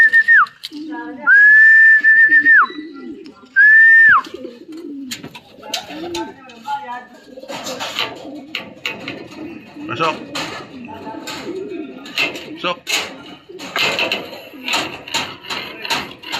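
Racing pigeons whistle and coo in short bursts at first as they return home, then soft pigeon cooing and flutters continue under scattered clicks and nearby voices.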